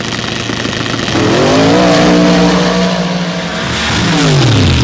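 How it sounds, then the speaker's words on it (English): A powerful rear-engine drag racing rail roars loudly, revving up in a rising, screaming pitch, then sweeping away with a falling whine; no talking. "very powerful rear engine rails"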